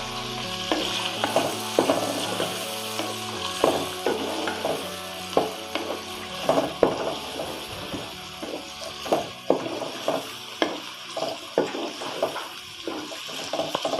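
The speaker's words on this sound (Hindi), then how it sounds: "गोश्त भी फ्राई हो जाएगा, साथ प्याज भी थोड़े नरम हो जाएंगे" Meat cubes and onions frying for bhindi gosht, a steady sizzle broken by repeated stirring scrapes and clinks in the pan, with no talk.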